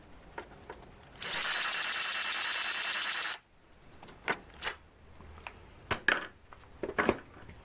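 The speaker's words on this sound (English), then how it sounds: "So we'll just spot drill the position." A small power drill whirs steadily for about two seconds, spot drilling metal for a bench top belt sander build, then stops, followed by scattered metallic taps and clinks of tools being handled.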